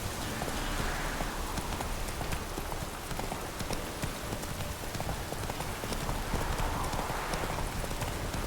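Horse galloping in The Witcher 3: Wild Hunt, a steady rapid clip-clop of hooves carrying on for the whole stretch over a loud, continuous background wash like rain, with no talking.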